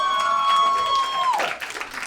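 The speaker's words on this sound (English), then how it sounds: "Little applause break from one lady" Brief applause from a stand-up comedy audience, a short burst of scattered clapping after a sustained tone fades, fairly close and moderate in level.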